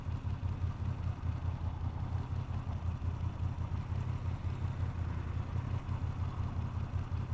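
A Moto Guzzi V7 850 motorcycle rides home, its engine giving a steady, loud low rumble with a fast pulsing beat that runs unbroken throughout, with no talk over it.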